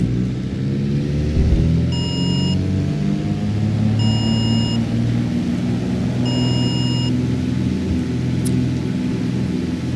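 Cirrus SR-22T piston engine in X-Plane 12 during a go-around, a loud steady low drone with rising harmonics that holds throughout, while three short electronic beep tones sound at regular intervals on top.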